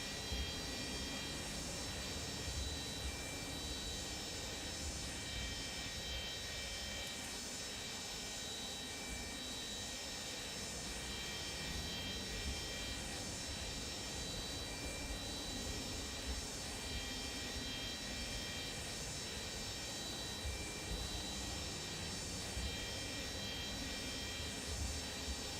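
A Boeing 727F in Microsoft Flight Simulator taxis toward the runway, its jet engines giving a steady, loud, unbroken whine and rumble throughout with no talking.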